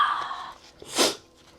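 One sharp, close human sneeze set off by seasoning food with lemon pepper while meal prepping, preceded by a faint breathy build-up.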